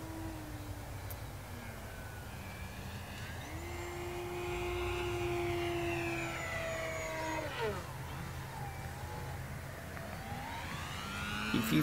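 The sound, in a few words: E-Flite Decathlon RC model airplane flying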